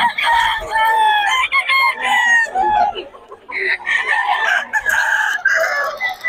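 Rooster crowing repeatedly with loud, drawn-out calls, close by, overlapping with other fowl clucking in a busy farmyard.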